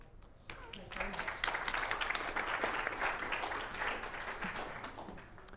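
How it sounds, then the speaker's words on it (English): Applause from a university lecture audience at Warwick swells after a brief quiet start and holds steady, a full room clapping together at moderate distance. "I'll give him a round of applause."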